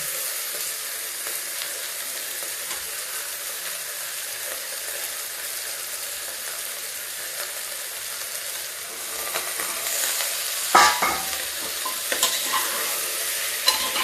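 Potatoes and eggplant fry in a pan with a soft, steady sizzle that grows livelier toward the end, where a few sharp clinks and scrapes of stirring break in close by.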